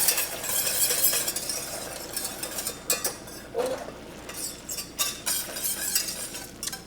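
Blueberry syrup boils in a pan as a spoon stirs it, giving a soft bubbling hiss broken by repeated scraping strokes and light clinks against the metal, close by and with no voices.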